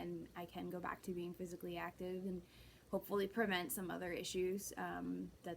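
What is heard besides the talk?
No everyday noise stands out behind the speech.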